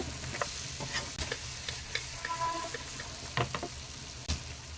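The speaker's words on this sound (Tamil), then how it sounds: "மீடியம் ஃப்ளேம்ல வச்சு ஒரு அஞ்சு நிமிஷம் இதை நல்லா வேக விடலாங்க" Raw banana slices fry over a medium flame in a pan, giving a continuous close sizzle broken by repeated spatula clicks and scrapes as the pieces are stirred.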